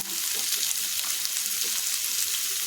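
Chavalikayi (cluster beans) frying in a pan for a jowar roti side dish produce a dense, even sizzle, a constant bright hiss with faint stirring beneath.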